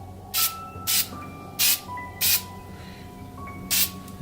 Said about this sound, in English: So let's start with the gold.